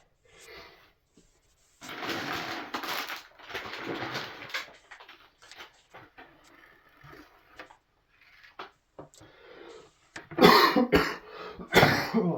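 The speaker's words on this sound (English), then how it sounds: "Sorry about my cough" A person sick for several days coughs in several harsh bursts separated by quiet pauses, close to the microphone, with the last two coughs the loudest.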